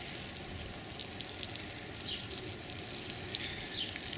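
Liquid is poured onto shallot beds in a garden, a continuous bright hissing splash that holds steady throughout, close and fairly loud.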